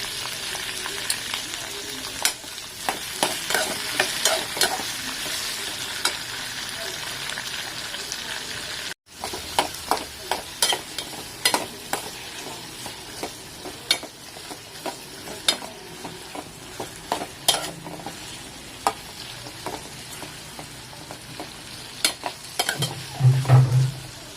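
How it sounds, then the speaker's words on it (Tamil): Brinjal and drumstick sauté in gingelly oil for a Tirunelveli-style puli kuzhambu, a steady close sizzle broken by frequent sharp spoon scrapes and clatters against the pan. "நல்ல எண்ணெயிலேயே வதக்கி விடுங்க"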